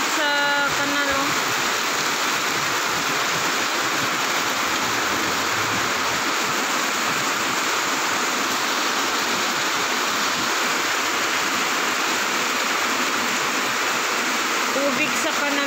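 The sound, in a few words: strong floodwater rushing in canal during heavy rain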